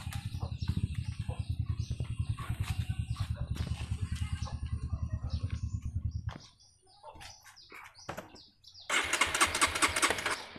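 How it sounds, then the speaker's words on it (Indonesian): A motorcycle engine is started and stopped by a phone-controlled switch: a steady rapid idle chugs close by, cuts out into near quiet with birds and a rooster in the background, then a harsher burst of engine noise returns. "Jadi sekali tekan motor bisa dinyalakan, dan sekali tekan motor itu dibikin mogok ya."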